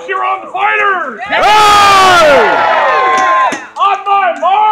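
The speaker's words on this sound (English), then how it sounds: "Crowd, cheer on the fighters." A crowd at a medieval combat event cheers and whoops loudly for armoured fighters, a dense burst of shouting and cheers that swells and fades, framed by an announcer's voice before and after.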